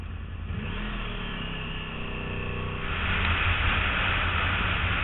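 A Yamaha R1 motorcycle accelerates hard on a motorway, the engine note rising steadily in pitch before a louder rush of wind and engine noise takes over, heard up close.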